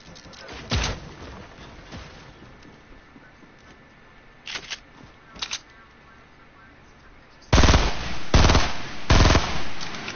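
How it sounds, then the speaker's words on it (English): Video game gunfire comes as a few sharp single shots and then a loud close burst of rapid fire near the end, over a low steady background. "He's just trying to shoot me down."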